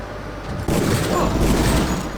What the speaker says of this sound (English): I shot it instead of the thing that actually explodes